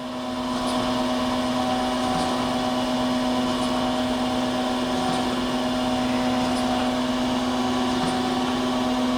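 A surface grinder makes a steady spark-out pass across a workpiece with no down feed, giving a continuous even whine and hum. Faint periodic ticks repeat roughly every second and a half.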